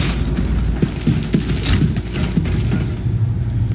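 A deep, rumbling explosion in Call of Duty: Infinite Warfare rolls on continuously, heavy low-end roar with a few muffled thumps inside it, loud and close, with no voices.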